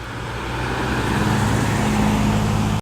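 A Ford Capri, a classic car, driving in at an outdoor classic car show at Weston Park, its steady engine drone close and loud with a low rumble that holds for about three seconds before cutting off abruptly.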